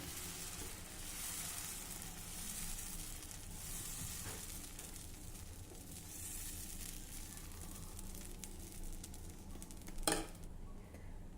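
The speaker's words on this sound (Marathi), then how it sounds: "आता मध्यम आचेवर आपल्याला हे येडणे छान खरपूस भाजायचे आहे" Edani batter, a traditional Khandeshi pancake, sizzles on an oiled hot tava over medium heat, a continuous dense hiss with a brief louder crackle near the end.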